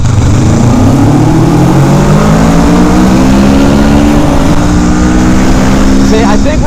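A Honda Rebel 500 motorcycle accelerates hard with a rising engine drone, loud and close under heavy wind rush, the pitch climbing as it pulls through the gears.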